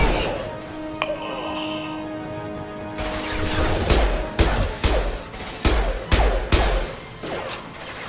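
Gunfire from the Mass Effect video game: a dense fusillade of sharp, loud shots arriving in irregular bursts over a low humming backdrop, growing heavier and more rapid toward the end.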